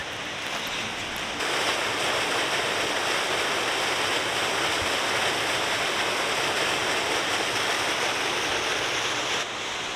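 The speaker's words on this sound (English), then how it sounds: "There's a little waterfall there." A small waterfall near Thor's Cave in the Peak District gives a steady, close rush of falling water, a constant full roar with no voices over it.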